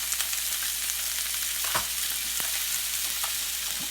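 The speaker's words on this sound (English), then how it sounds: "We're just going to throw some butter in here." Real butter sizzles in a hot pan while rockfish is pan seared. A steady, fairly loud crackling hiss runs throughout, with a couple of brief pops or taps and no talking.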